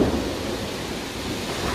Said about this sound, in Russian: На меня упали первые 3 капли. Шторм.